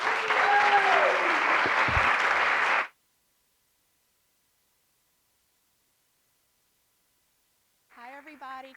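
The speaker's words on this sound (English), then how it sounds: "let's give a round of applause to Gabrielle Richards" An audience applauds loudly and steadily for about three seconds before it cuts to silence, after which a faint voice begins speaking near the end.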